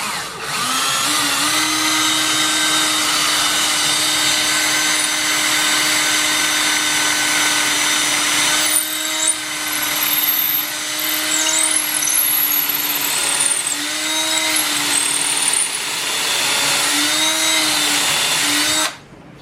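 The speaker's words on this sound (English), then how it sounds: "And then we'll get that one drilled out." A power drill boring into a beaver mount, one long loud continuous whine that shifts pitch as the bit bites and eases, alone and close.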